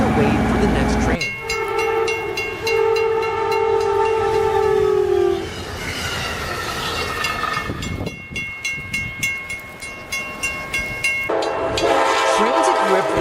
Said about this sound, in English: These powerful machines plow through thick snowbanks, throwing snow high into the air with roaring force, clearing the way for the next train.